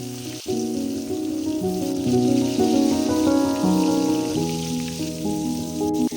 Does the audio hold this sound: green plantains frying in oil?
yes